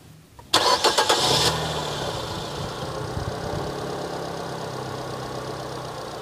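Starter cranks a 2008 Nissan Grand Livina XV automatic during a battery cranking test, giving a rapid rhythmic chug for about a second before the engine catches and settles into a steady close idle.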